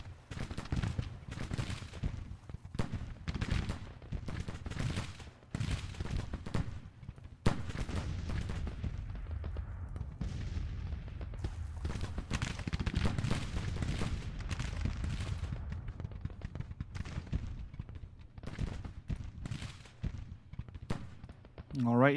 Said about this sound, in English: We're already firing with Kershaw's Port Royal boys, with the Mississippi Rifles.